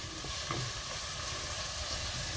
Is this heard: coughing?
no